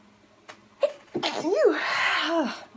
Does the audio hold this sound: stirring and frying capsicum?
no